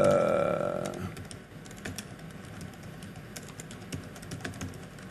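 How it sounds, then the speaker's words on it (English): Typing on a computer keyboard set at an awkward angle, with uneven bursts of soft, close key clicks following a short fading tone at the start. "I'm typing lousy because my keyboard's at an angle here"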